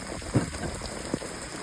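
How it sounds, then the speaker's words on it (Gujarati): Steady rain of the first monsoon downpour pattering on surfaces, a dense continuous hiss with a couple of louder nearby drips standing out. "આમ જો બધે વરસાદ ખાલી વાસણ ચડે એમ જ વરસાદ થઈ બાકી બધે ટીપા પડે જ છે."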